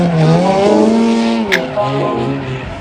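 Loud drift cars tandem on a track at a birthday drift event, engines wailing with rising and falling pitch and a sharp tire squeal midway, continuous and close.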